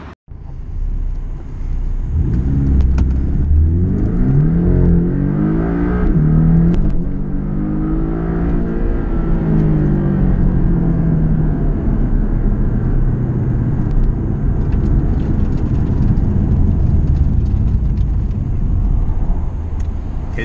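A 2017 Porsche 718 Boxster S engine revs loud and close for about twenty seconds, its pitch climbing and falling through several sweeps before settling into a steady, rumbling idle, with no talking over it.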